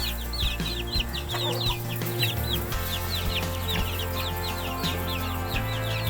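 A flock of two-month-old Betong chickens on a farm in Doi Saket, Chiang Mai, clucks and chirps again and again, close and loud. A low rumble of machinery runs steadily underneath.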